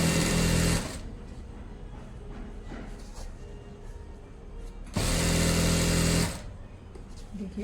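A sewing machine stitches elastic onto a pair of pants in two loud, close bursts separated by a quieter pause, with a faint background hum between runs.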